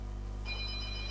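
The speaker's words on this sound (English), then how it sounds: "Sorry about the phone ringing" A telephone rings indoors, a steady electronic bell tone starting partway through, faint against a low constant hum.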